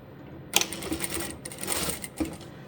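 A sewing machine running a back stitch on a fabric scrunchie with elastic, a fast whirring hum with mechanical chatter that starts abruptly, pauses briefly and resumes, heard close up.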